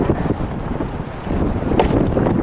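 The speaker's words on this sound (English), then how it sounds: "It's so windy to canoe." Strong gusty wind blowing across open water during a canoe outing, buffeting the microphone with a loud, fluctuating roar and no talk.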